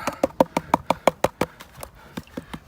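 A gold pan holding paydirt and water is tapped and shaken by hand, giving a quick run of about a dozen sharp, close knocks in a steady rhythm that loosens toward the end.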